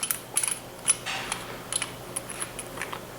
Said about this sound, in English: You should hear a clicking sound.